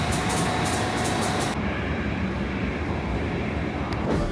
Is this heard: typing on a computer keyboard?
no